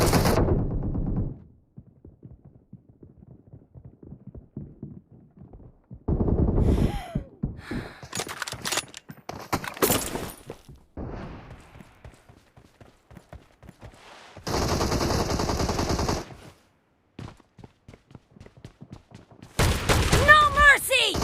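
Bursts of M1014 shotgun fire in a first-person shooter video game, loud sharp blasts in irregular clusters separated by quiet gaps, with game voice callouts between them.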